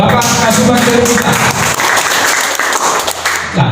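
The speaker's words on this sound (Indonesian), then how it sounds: "Tepuk tangan apa untuk Bapak Kasubag TU kita." Sustained audience applause at an Indonesian government office budget-planning event, dense clapping filling the room at steady loudness for a few seconds.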